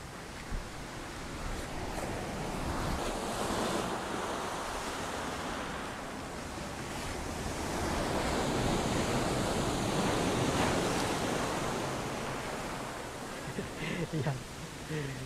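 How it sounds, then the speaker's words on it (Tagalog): Ocean surf roars steadily up close at Sulok Beach in General Nakar, Philippines, waves crashing on rocks and washing in rolling surges over a constant wash of wind noise. "kung makikita natin yung alon, nagangalit yung alon"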